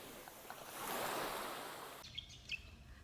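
Ocean waves at Gili Air beach in Indonesia, a soft surf swelling and washing in, then receding to a quiet hiss with faint chirps in the background.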